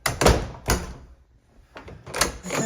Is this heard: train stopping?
no